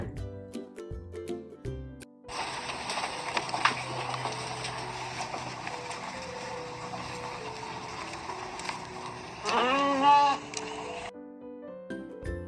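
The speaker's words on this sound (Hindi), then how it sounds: "ये है भेड़, जिसे हम इंग्लिश में बोलते हैं शिप।" Sheep bleating from a domestic flock, a sustained broad wavering call that swells near the end, standing alone between softer music-like sounds.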